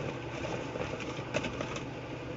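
Washing machine motor runs steadily while held back by hand, a continuous mid-pitched electric hum with slight mechanical rattle, close and unbroken for the whole moment.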